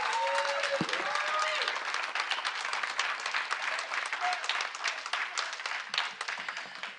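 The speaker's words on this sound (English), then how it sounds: "the undecided people can clap for all the candidates" An audience at a city council candidates forum applauds steadily for several seconds, a dense, continuous clapping that fills the room, with a brief tone near the start.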